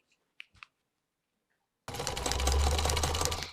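A sewing machine starts up after a few faint clicks and then runs loudly and continuously, with a dense, steady mechanical whir for the last couple of seconds.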